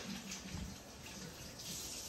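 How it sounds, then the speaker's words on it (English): Warm water running from a tap to wet hands before shaping a French country loaf of poolish bread dough, a steady faint splashing stream at moderate distance with no voices. "I'm going to wet my hands with some warm water."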